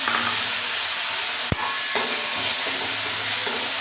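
Chickpeas frying in hot oil after a tempering of chillies, mustard, nigella and curry leaves, with a loud, continuous close sizzle and a brief sharp knock partway through.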